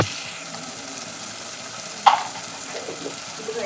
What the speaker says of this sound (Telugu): ఇవన్నీ వేసుకుంటే తొందరగా ఫ్రై అయిపోతుంది ఆనియన్.